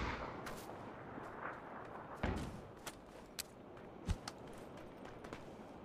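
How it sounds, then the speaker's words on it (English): Sharp gunshots from the PUBG battle-royale game crack out at intervals, one heavier report near the middle and several quieter, more distant shots scattered over a low, steady background rumble. "I shot once at him."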